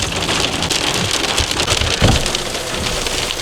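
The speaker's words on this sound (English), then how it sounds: "it is hailing right now. Hailstorm is real." Hail falls in a dense, loud, continuous patter of hard pellets striking surfaces close by, a steady hiss without voices.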